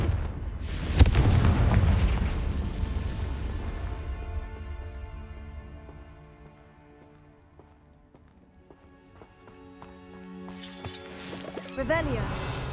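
A Confringo fire spell explodes in Hogwarts Legacy with a loud rumbling burst that fades into a low ringing tail, followed by a second rising blast near the end.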